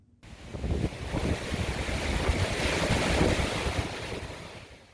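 Typhoon Maysak hits the seaside in Jeju with strong wind and crashing waves, a loud, continuous roar of surf and gusting air with wind buffeting the microphone and no talking.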